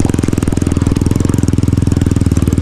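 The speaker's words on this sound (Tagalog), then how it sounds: "Mag-grass cutter muna tayo sa sitawan, tsaka yung pagitan ng kalamansi dito sa may sitaw natin para luminis." A grass cutter engine runs steadily while clearing weeds between calamansi trees and string beans on a farm, a loud, close, rapid even chugging that holds constant with no speech over it.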